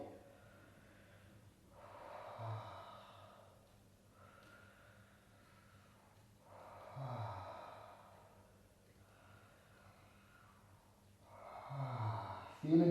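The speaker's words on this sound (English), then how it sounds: "let's start breathing deep in and out through the mouth" Slow, deep breaths in and out through the mouth during a somatic exercise, each long airy exhale rising and fading in a steady cycle of about five breaths, close and fairly quiet.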